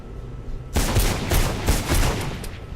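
Loud bursts of gunfire in the Mirror's Edge video game break out suddenly after a brief quiet start, firing in rapid, repeated volleys that pulse several times before easing slightly.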